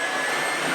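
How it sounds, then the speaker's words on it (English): A Hamilton Beach hand mixer whipping honey butter, a brief steady high-pitched motor whine with a faint airy whirr, close and continuous. "Your hand mixer,"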